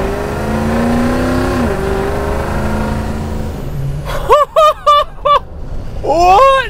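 A turbocharged school bus engine with about 500 horsepower and 30 PSI of boost roars under full throttle, its pitch climbing, then cuts out as several short whistling or squealing bursts follow.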